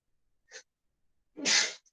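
A single person sneezes once, preceded by a short sharp intake of breath, loud and close in an otherwise quiet room.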